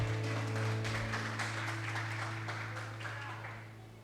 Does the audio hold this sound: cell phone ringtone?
no